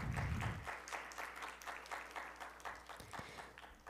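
Applause from an audience at a law students' conference, a faint, fairly distant patter of clapping that continues steadily after a brief louder sound at the start.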